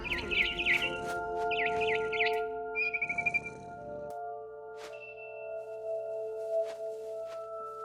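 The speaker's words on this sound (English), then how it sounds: "Then I heard chirping outside my window. It was a barn swallow going back to her nest." A barn swallow chirps in bursts of quick bright notes outside a window in a video game, with sustained musical tones continuing beneath and after the calls.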